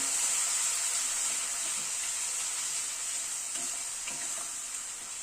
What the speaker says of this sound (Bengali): টমেটো পেস্টটাকে দিয়ে মশলাটাকে আবার একটু কষিয়ে নিচ্ছি।